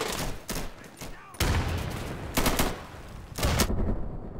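Rapid bursts of automatic gunfire from the Insurgency first-person shooter video game, coming in three or four loud, dense volleys with short gaps between them.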